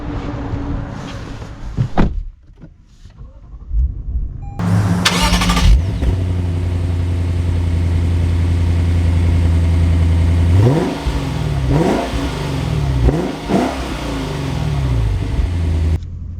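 A 2024 Lexus IS 500 with its V8 engine is started after a door thunks, and the car settles into a loud, steady idle. Several sharp revs follow near the end, rising and falling close by.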